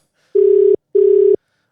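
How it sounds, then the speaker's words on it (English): A telephone ringback tone sounds while a call is being placed: two steady, clear beeps of about half a second each, separated by a short pause, with no voices. "answer the fucking phone"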